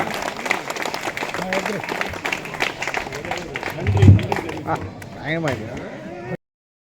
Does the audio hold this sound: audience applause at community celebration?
yes